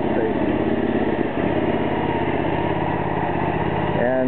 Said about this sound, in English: After the engine starts, you can unchoke the engine